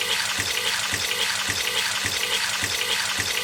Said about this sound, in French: Et je recouvre avec de l'eau.